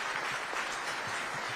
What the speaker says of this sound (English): Huge round of applause for that one.